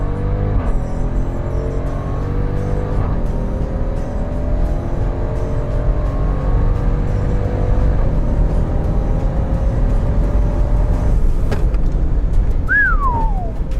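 A Jeep Trackhawk launches hard from a standstill on a 0 to 60 run with a little wheel spin. Its loud, close engine roar climbs steadily in pitch for several seconds, and a sharp, whistling chirp comes near the end.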